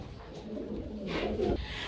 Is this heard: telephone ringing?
no